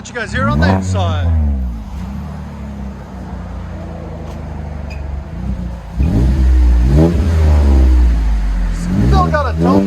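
A 2022 Chevy Colorado's 3.6L V6 with a Magnaflow exhaust revs repeatedly from inside the cab, its deep rising and falling engine note swelling loud several times while someone talks between revs.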